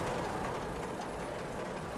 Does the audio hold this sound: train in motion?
yes